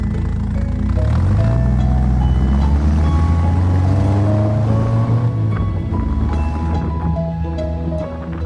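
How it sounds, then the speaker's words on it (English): A 1977 Morgan 4/4 with a 1.6-litre Kent Crossflow engine idles and runs steadily at close range, a deep rumbling drone with a slight rise in revs, loud and without talk. "Now this uses the Kent Crossflow engine."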